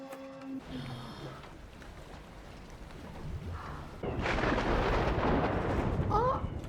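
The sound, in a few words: thunder rumbling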